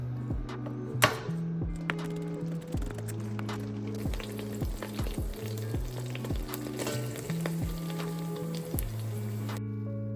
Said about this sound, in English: After the anchovies start sizzling a bit, I throw in 4 cloves of finely chopped garlic.